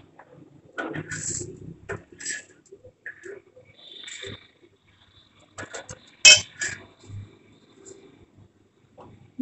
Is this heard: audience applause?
no